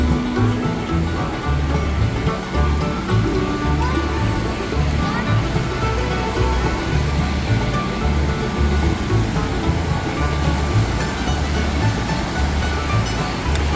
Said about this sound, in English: We did get a lot of rain yesterday here in Gatlinburg, so right now the river is rushing.